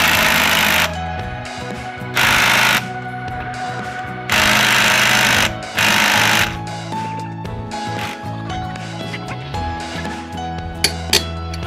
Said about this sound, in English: Loosen up the lug nuts.